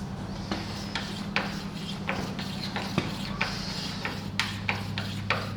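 A hard razor blade is scraped back and forth over a paint run, giving short, raspy rubbing strokes with sharp clicks at irregular intervals, close and moderately loud over a low steady hum, with no talk.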